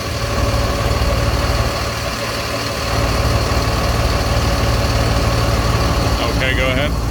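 A 5,000-gallon jet fuel truck engine running after a start, a loud, steady diesel drone close by, with a brief mechanical chatter near the end.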